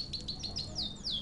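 A bird chirps in the video game Heavy Rain, repeated thin high tweets and short descending calls over a low ambient hum, faint and steady.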